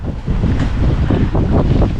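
Steady, broadband wind roar buffets a microphone aboard a sailboat on the Mediterranean, wind from astern, with a rushing, wave-like wash underneath; loud and continuous with no voices.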